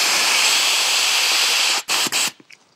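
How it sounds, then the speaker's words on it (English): A loud, steady hiss of compressed air blasting through a go-kart brake line elbow for nearly two seconds, then breaking into a few sputtering bursts that fade out. "We're going to introduce some compressed air into the system through the brake line elbow"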